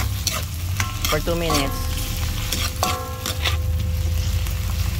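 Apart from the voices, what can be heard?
sautéing mushrooms in a pan for carbonara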